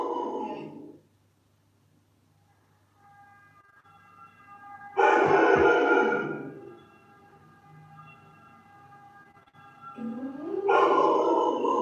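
A dog howls in long rising-and-falling wails, three separate bursts with quiet gaps between them, loud and close, each howl sliding in pitch like a siren.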